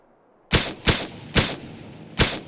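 Four loud, sharp gunshots from the survival game Miscreated, spaced unevenly over about two seconds, each ending in a short decaying tail with no talk over them.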